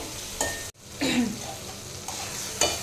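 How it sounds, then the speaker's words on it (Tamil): Tomatoes sautéing in a pan for an onion-brinjal thokku, a steady close sizzle broken by a few spoon scrapes and stirring strokes, with one brief dropout. "தக்காளி வந்து நல்லா வதங்கி வரட்டுங்க"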